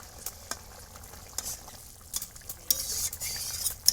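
A spoon stirs rohu fish curry with soft potatoes in a pan of bubbling liquid, making scattered scrapes and knocks over a low simmering hiss, close and fairly quiet, with no talking.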